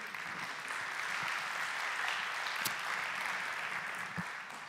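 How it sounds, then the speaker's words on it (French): Audience applause at a French occupational health and safety conference as a speaker is called to the stage; steady, full clapping from a sizeable crowd throughout, with no talk. "on vous applaudit bien sûr."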